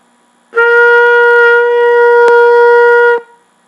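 A single trumpet note held for about three seconds, played in the center of the pitch, loud, bright and steady with a clean attack and release, heard alone.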